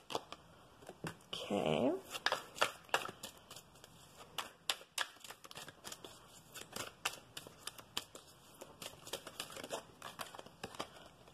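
Oracle cards are shuffled and handled up close, a quiet run of papery riffles, crinkles and sharp flicking snaps in an irregular rhythm, with a brief spoken word.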